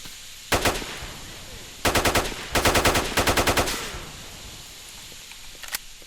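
Automatic gunfire from a worn, poorly maintained gun in the S.T.A.L.K.E.R. Shadow of Chernobyl game: four loud rapid bursts of shots, each a quick run of sharp cracks, with a faint single report near the end and no talk.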